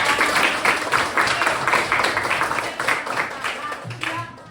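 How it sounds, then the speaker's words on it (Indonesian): A sixth-grade class claps steadily for several seconds, the applause slightly thinning toward the end, with some voices mixed in underneath. "Kita tepuk tangan dulu untuk Nara."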